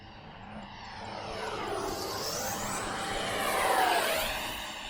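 Two F-15 fighter jets fly through strong wind, a broad roaring whoosh that swells and sweeps in pitch as they pass, peaking near the end, with no voices.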